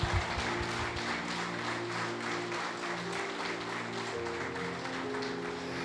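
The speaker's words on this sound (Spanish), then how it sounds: "Dale un aplauso a Jesús entonces." A church congregation at a Sunday service claps under a sustained organ or keyboard chord, with moderately loud, fairly even applause lasting about six seconds.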